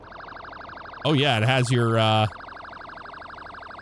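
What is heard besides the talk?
yelp police siren in Highway Police Simulator video game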